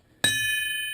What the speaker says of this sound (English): And here is ship's bell.